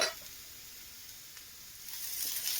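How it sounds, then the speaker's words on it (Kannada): Mushroom curry base of onion frying in oil in a home kitchen pan, a steady soft sizzle that holds alone throughout and swells slightly toward the end. "ಇದಕ್ಕೆ ಸ್ವಲ್ಪ ಆಯಿಲ್ ಕೂಡ ಸೇರಿಸ್ಕೊಂಡು ಫ್ರೈ ಮಾಡ್ಕೊಳ್ಳೋಣ."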